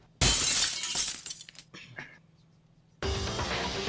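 Glass shatters loudly in a crisp burst from the video game Danganronpa: Another, followed by scattered tinkling fragments, a brief lull, then a second bright crash of breaking glass.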